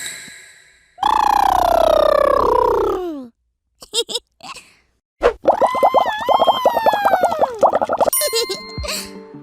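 A voice imitates a woolly mammoth with long trumpeting, sliding blasts, broken by short squeaks and pops, then another wavering trumpet call and bubbly honks.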